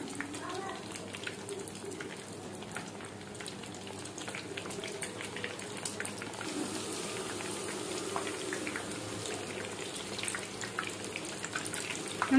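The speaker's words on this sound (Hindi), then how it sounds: "हमने दूसरी साइड से भी पलटते हुए इसे फ्राई करना है।" Mutton cutlets sizzle and crackle as they fry in hot oil, a steady dense spatter of pops and hiss running throughout at close range.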